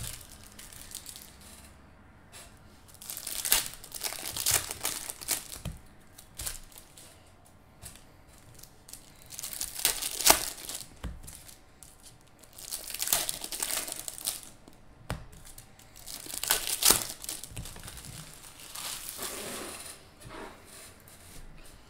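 Foil wrappers of Topps Finest baseball card hobby packs being torn open, repeated bursts of crinkling and ripping at close range, loud stretches alternating with brief pauses, no talk.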